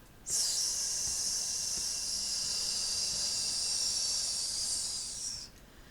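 One sustained, even hiss of air exhaled through the mouth as a singer's breathing warm-up, close-miked and soft, running for roughly five seconds and then stopping, without any speech.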